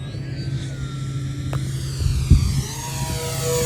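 An E-Flite Twin Timber RC bush plane with twin electric motors drones overhead at slow speed, a steady humming tone with a shifting, throbbing pitch that swells slightly as it passes, no talking.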